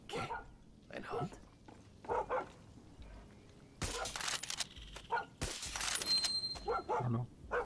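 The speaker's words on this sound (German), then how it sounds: "Ein Hund?" A dog barks in Far Cry 6, several sharp barks and yips scattered among bursts of game sound effects, with someone talking in German over the action.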